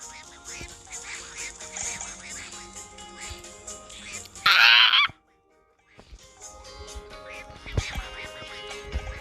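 Ducks honk and quack in the video game Fancy Pants 2, with one loud, sharp burst standing out above game music and a voice speaking over it.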